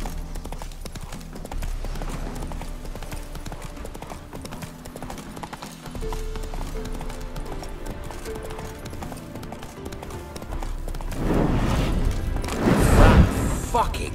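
A horse in The Witcher 3 clip-clops steadily under a music bed, then a loud rough whinny and snorting burst out near the end as it spooks.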